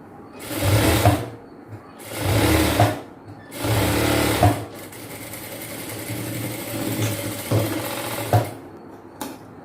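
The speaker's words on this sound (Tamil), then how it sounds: "ஜஸ்ட் அப்படியே ஃபோல்ட் பண்ணி தையல் போட்டுக்கோங்க." Electric sewing machine stitching a folded, gathered chudidhar pant hem, three loud whirring runs of stitching separated by pauses, followed by quieter, intermittent motor hum and short bursts.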